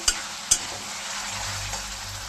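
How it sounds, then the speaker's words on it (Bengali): Fried potatoes being stirred into spiced oil in a pan for a Bengali tangra fish curry: two sharp spoon knocks at the start, then a soft continuous sizzle, close with no voices. "এখন একটু নাড়িয়ে নিচ্ছি।"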